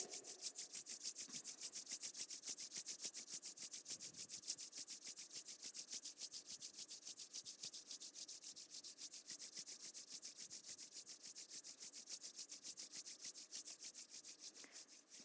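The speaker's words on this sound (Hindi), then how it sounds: "दोनों हथेलियों को रब कर लें आपस में। हथेलियों को अच्छे से गर्म कर लें।" Palms of both hands rubbed briskly together, a steady rhythmic swishing friction that repeats fast and evenly throughout, close and fairly quiet.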